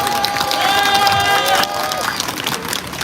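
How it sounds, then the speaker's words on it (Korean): An audience at a Korean union training rally in Gunsan claps and cheers, a dense wash of crowd noise with voices mixed in, steady and fairly loud before easing slightly halfway through. "박수 한번 해주시기 바랍니다"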